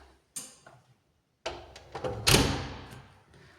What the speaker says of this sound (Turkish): Evet kapıyı kapatacağım.